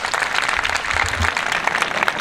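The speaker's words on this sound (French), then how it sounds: "Applaudissez les filles, s'il vous plaît." An audience applauds the top-ranked girls at a school civic day event, making loud, dense, close clapping that fills the short stretch with no clear talk.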